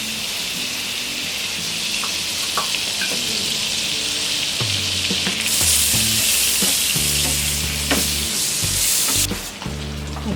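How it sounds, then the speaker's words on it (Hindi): Half-cooked roti roasting on a pan in butter and a teaspoon of oil, a steady loud sizzle and crackle with occasional scrapes and knocks of a utensil against the pan, no talking. "और इस पर ये हाफ कुक्ड रोटी हम सेकेंगे।"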